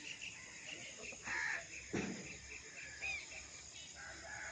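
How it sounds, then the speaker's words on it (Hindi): A rooster crows a couple of times at a moderate distance against a quiet early-morning village background with faint bird calls. "ये मुर्गी हैं जी, जिन्होंने सुबह सुबह मुझे बेदार किया है।"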